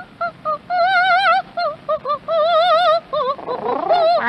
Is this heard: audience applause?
no